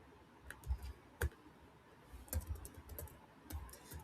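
A URL is typed on a computer keyboard in soft, sparse bursts of key clicks separated by pauses. The keystrokes are faint and close in a quiet room.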